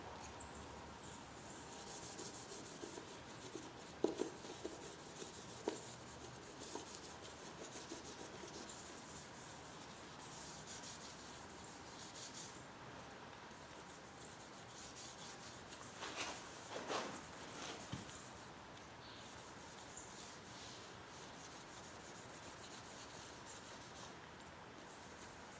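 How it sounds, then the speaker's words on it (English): Mother's polish rubbed by hand into a 1995 Ford F350 mirror, a faint steady cloth rubbing and scrubbing with a few sharper knocks, quiet and close, no voices. "We're just going to rub it in just the same way we did before."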